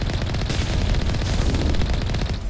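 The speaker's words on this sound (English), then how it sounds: "This one, we're just gonna shoot from a distance." Rapid automatic gunfire in Mass Effect, shots aimed at a Geth Armature from a distance, loud and continuous with a dense rattling rhythm, briefly easing near the end.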